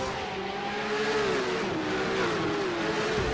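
Porsche race cars launching from the start in the iRacing video game at Sebring, a loud, steady engine roar with rising and falling revving tones as a pack of cars pulls away, no voices.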